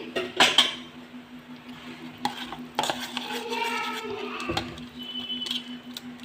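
Wheat semolina batter for instant dosa being stirred in a bowl, with light clinks of a spoon against the dish and soft wet mixing sounds, close and fairly quiet, no talking.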